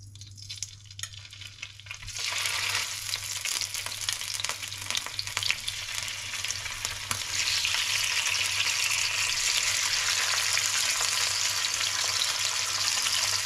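Salmon fries in olive oil, starting quietly and then breaking into a loud, dense, continuous sizzle that grows slightly stronger and holds steady to the end.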